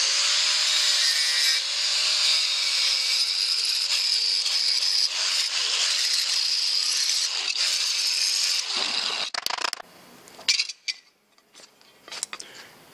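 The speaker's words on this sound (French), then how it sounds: "maintenant on va meuler pour voir ce que ça donne" An angle grinder works loudly across welded car body sheet metal, keeping up a harsh, continuous high whine for about nine seconds before breaking into a few short, scraping bursts and pauses.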